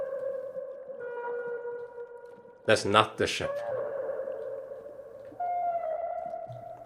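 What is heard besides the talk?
space whale-like vocalization in the video game Mouthwashing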